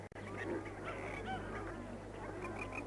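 Freckled ducks give soft honking calls over a low steady background hum, several short calls spread across a few seconds, fairly faint.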